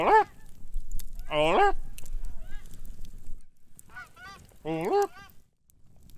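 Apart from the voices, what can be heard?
geese honking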